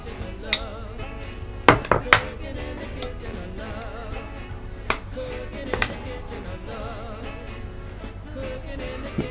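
Sponge pieces for a ginger trifle being stirred around in a dish, with a series of sharp clinks and taps of utensil against the dish spread irregularly across the clip, fairly close and clear.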